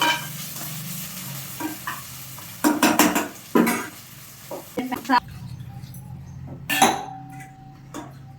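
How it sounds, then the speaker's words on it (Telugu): Tomato pieces being stirred into an egg gongura curry in a pan, with a steady sizzle of frying under repeated bursts of spoon scraping and clinks against the pan, close and fairly loud. "ఇప్పుడు టమాటా ముక్కలు వేసేసుకుందాం ఒకసారి కలుపుకున్నామండి"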